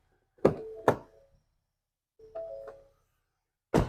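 Rear hatch of a Ford Expedition fire command vehicle popping open: two sharp close thunks about half a second apart, then a softer mechanical clunk with a faint tonal hum, and another knock at the end.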